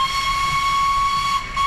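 A historic steam train whistle on a heritage line between Skipton and Appleby blows one steady, loud, close tone held without a break, with a hiss of steam beneath it and no talk.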